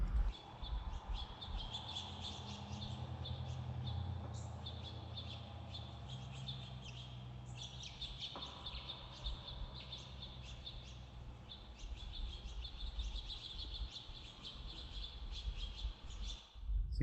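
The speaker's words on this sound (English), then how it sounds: "So the birds in a different environment sound like this." Birdsong processed in Logic Pro X to sound as if in a different acoustic space, with repeated chirps and tweets over a low rumbling background, continuing steadily at moderate level with no talking.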